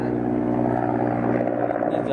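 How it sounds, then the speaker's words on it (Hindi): Helicopter flying overhead during morning training flights, a steady loud droning rotor and engine roar filling the whole stretch without pause. "ज्यादा आवाज कर रहा है हेलीकॉप्टर।"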